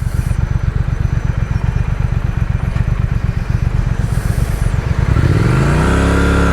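A sport motorcycle's engine runs with a rapid, loud, close throbbing, then climbs steadily in pitch as it revs up toward the end, with no voices.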